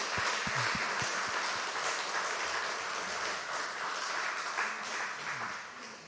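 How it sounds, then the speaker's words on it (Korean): A church congregation at a Wednesday service applauds its children's ministry teachers. A few distinct claps at first swell into a steady, moderately loud wash of clapping that fades gently. "뜨겁게 격려의 박수 한번 부탁합니다."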